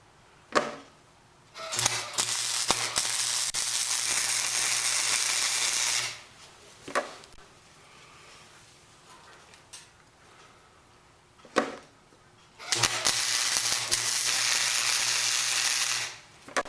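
Tack welding steel parts of a backyard firepit: two long bursts of harsh crackling arc, each several seconds, separated by quiet gaps with sharp clicks and taps, close and loud.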